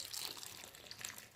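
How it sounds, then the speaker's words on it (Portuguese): Water pours from a cup into a pot while cooking Angolan kizaca with fish and cassava leaves, a short, faint, steady trickle with no talking. "vou meter uma chávena desta de água"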